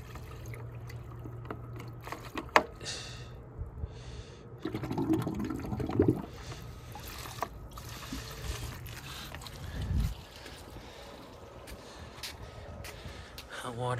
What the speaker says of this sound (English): Hot water is flowing